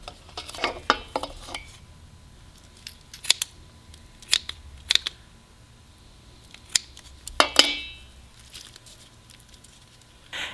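Scissors snip through chicken wing meat near the bones in a kitchen, a scattering of sharp close clicks and crunches with quiet pauses between, one cluster of quick cuts standing out near the end.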